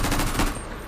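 Rapid automatic gunfire from a Draco pistol in a video game sound mod: a loud, dense burst of overlapping shots, close and dry, with no talking, fading slightly at the end.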